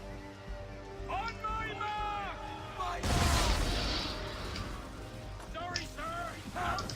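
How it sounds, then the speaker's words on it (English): Heavy naval cannon fire from a sailing ship in Assassin's Creed 3, a single loud booming blast after a stretch of tonal game sound, with a sharp crack near the end and busy music and effects throughout. "Just take them out using your swivel gun. It's going to be one on your right. Just use your main cannon or your swivel gun."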